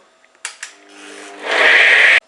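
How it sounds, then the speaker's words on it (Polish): A high-speed blender grinds a raw burger mixture, with a few short bursts, then a steadier whir that ramps up to a loud, sustained high-pitched roar before stopping sharply. Nobody speaks. "Blender musi być wysokoobrotowy, żeby to na drobną masę rozdrobnić."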